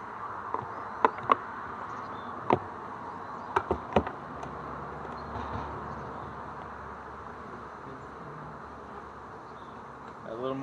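Honeybees buzz steadily around an open hive in early spring, broken by a handful of sharp clicks and knocks near the start, with no clear speech.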